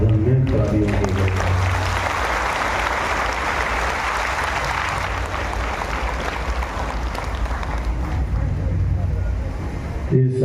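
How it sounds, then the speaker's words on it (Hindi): An assembly of meditation practitioners applauds one another at a spiritual gathering in Bastar, with dense, sustained clapping filling the room before it tapers off at the end. "सभी साधक साधिकाएं एक दूसरे के उत्साहवर्धन में तालियों के लिए।"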